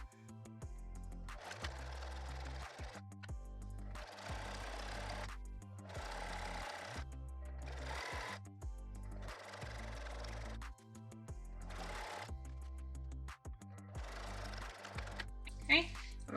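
A sewing machine runs in repeated short bursts of rapid straight stitching on a zipper pouch, each run starting and stopping with brief pauses between, close and clear, with a voice speaking faintly at times.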